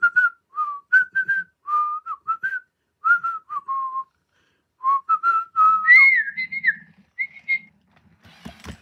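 A robot pet whistles a series of short, clear, chirpy melodic tones in bursts separated by silence, close and alone, with a faint rustle at the end.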